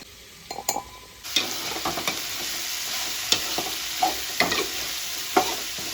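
Kantola vegetable fried with onion, tomato, turmeric and garlic in a pan, sizzling steadily and loudly once the oil catches, with repeated spatula stirs and scrapes throughout.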